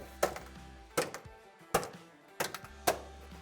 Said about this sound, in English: So to get this cover off, all we need to do is flip these 5 tabs up.